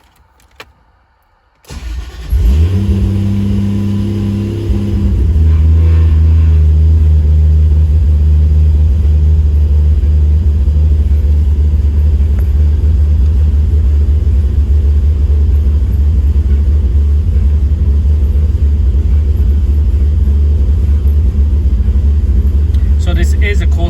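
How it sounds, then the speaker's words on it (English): A Toyota MK3 Supra running E85 fuel cold-starts with a brief crank, catches, and settles into a loud, steady deep idle rumble that continues unbroken, close by. "here I'm gonna try to start it up"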